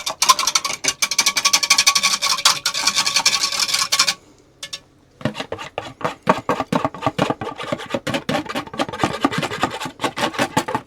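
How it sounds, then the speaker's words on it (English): Whisk beating an egg into butter in a bowl, heard as brisk, loud, rhythmic scraping strokes close by, with a brief pause partway through and no talk. "We'll go ahead and just whisk this into the butter."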